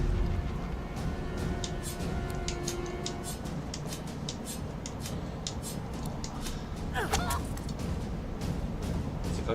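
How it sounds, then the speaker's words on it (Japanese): Chicken clucks and honk-like squawks from a creature transformed by a spell in the fantasy role-playing game Divinity: Original Sin 2, repeated in a busy burst over a constant bed of game ambience and combat noise. "鶏になーれ。"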